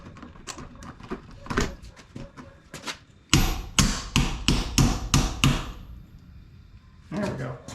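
A rapid series of sharp, loud knocking strikes, several in a row, hammered with an improvised hammer against something hard on a 1976 Jeep J20, with brief voices and rustling around them.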